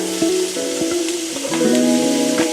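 Peppers and onions dropped into a pan of hot butter and oil, sizzling and crackling up close, with scraping and stirring clatter from a utensil over a few seconds.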